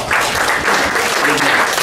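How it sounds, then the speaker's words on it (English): A church congregation gathered in a restaurant gives a short, steady round of applause, a dense close patter of many hands clapping with no voices over it. "Let's give God a round of applause"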